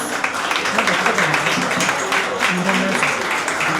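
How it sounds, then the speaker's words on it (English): Audience applause for the panelists at an entertainment industry awards event in a warehouse venue, a steady wash of clapping across the room with talk mixed in underneath. "Can we have another round of applause for our panelists?"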